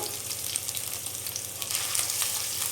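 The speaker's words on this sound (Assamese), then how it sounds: "এইখিনি অকণমান ফ্ৰাই কৰি লম কেই সেকেন্ড মান" Chopped ginger and garlic fry in a pan for a chana dal dish, giving a soft, continuous sizzle and crackle with no talking.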